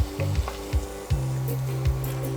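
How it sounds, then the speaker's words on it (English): Cinnamon sticks and chopped garlic sauté in a pan, a short sizzle with a few quick stirring strokes and scrapes close by, alongside a low steady hum, no speech. "I'm going to add in the cinnamon sticks, the finely chopped garlic, and saute it for about a few seconds"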